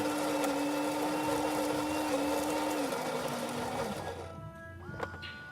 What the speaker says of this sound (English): So let's run a shot. Starting some coffee.